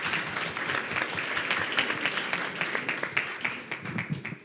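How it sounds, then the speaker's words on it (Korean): Audience applause welcoming a judge at a conference session on IP injunctions, a moderate crowd clapping steadily with distinct individual claps, thinning toward the end. "판사님을 박수로 맞아주시기 바랍니다."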